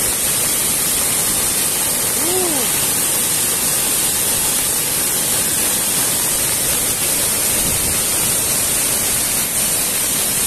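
Steady, loud roaring wind noise fills the whole clip, a constant broadband rush without pause, with a brief faint tone near the start.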